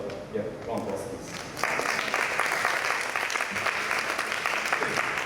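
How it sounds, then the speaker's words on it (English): After a brief murmur, an audience at an annual general meeting breaks into steady, moderately loud applause that continues to the end, with some voices underneath. "round of applause, please"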